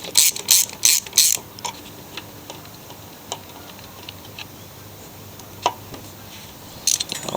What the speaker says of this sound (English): Now let's get the carburetor off. Three bolts, 5/16.